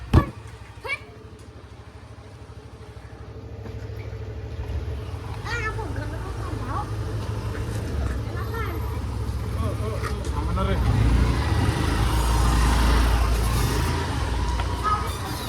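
A vehicle drives off to fetch water, its engine a steady low hum that swells louder toward the end. People talk over the running motor.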